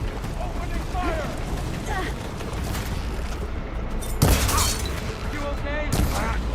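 Gunfire from soldiers in Horizon Forbidden West, a dense stretch of battle noise with sharp bursts and a heavy blast near the end, under shouted in-game voices.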